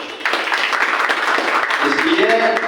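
An audience at a Jain monk's gathering breaks into steady, crowded applause that holds for a few seconds, with a voice heard over the clapping.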